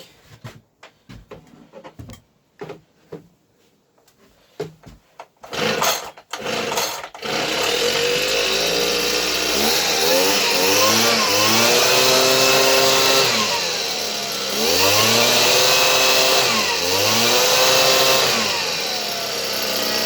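A Tanaka two-stroke petrol leaf blower gives a few short pull-start sputters and bursts, then catches and runs loud and continuous, its engine note rising and falling through several revs.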